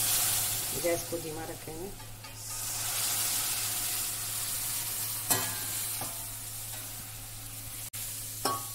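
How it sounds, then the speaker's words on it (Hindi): Half a litre of milk poured into roasted moong dal halwa, giving a steady hiss and sizzle with occasional stirring scrapes and clinks close by, while someone speaks briefly early on. "अब मैं इसमें 1/2 लीटर दूध डाल रही हूँ।"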